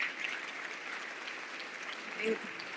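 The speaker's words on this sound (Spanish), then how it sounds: "Les pido un aplauso para los 5 jóvenes que han reinterpretado los poemas." An audience applauds five young performers who reinterpreted poems at a poetry gathering. The clapping is a steady, dense wash of many hands, moderately loud throughout with a slight swell near the end.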